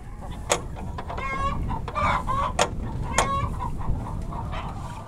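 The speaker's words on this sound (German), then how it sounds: "In 2 mobilen Ställen halten sie hier freilaufende Hühner." Free-range hens clucking around two mobile coops on a farm, several birds giving repeated short clucks and drawn-out cackles at close to middle distance over a low background murmur.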